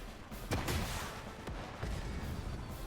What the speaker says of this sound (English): That bomber came within range of my anti-air rockets.